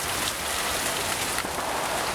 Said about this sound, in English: Uh-oh. Look at the rain.